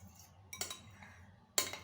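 Cumin and other spices mixed into food in a bowl: a few light metal-on-dish clinks and scrapes from a spoon, quiet and close, with short gaps between them.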